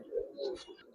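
Giribaz pigeons offered for sale coo nearby, two or three soft, low throaty coos in quick succession within about a second.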